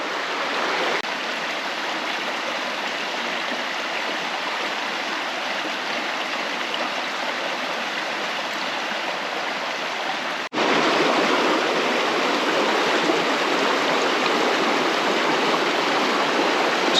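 Badger Creek runs as a steady, close rushing stream, a broad even wash of flowing water with no voices, holding constant before stepping slightly louder partway through.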